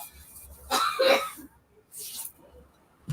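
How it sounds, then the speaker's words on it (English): Two harsh coughs, a rough burst followed by a softer one, slightly distant against quiet background. "Oh, I hear somebody coughing."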